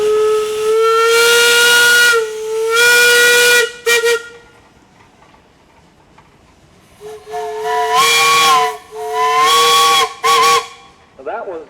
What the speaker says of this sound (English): That was the Baker whistle.